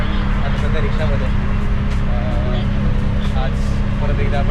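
Riding inside an auto-rickshaw in Ujjain brings a constant engine rumble and surrounding road traffic, with people talking over the noise.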